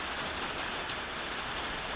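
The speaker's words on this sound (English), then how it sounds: "More rain coming this way." Rain falls on a bayou in South Alabama, a soft, steady hiss of drops with no breaks and no talking.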